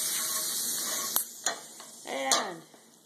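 About a tablespoon of butter sizzles in a frying pan over medium-high heat before French toast goes in, a soft hiss broken by a few sharp clicks and scrapes of a utensil against the pan.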